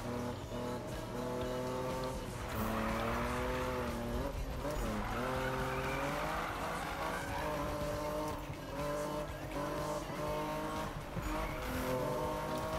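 A race car in Need for Speed 2015 drifts with tires squealing over a continuous engine roar. The pitch wavers as the car slides through turns and the sound stays loud throughout.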